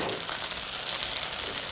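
Hot oil sizzles and crackles continuously at close range as chicken fried steak deep fries, a dense steady frying hiss with no talking.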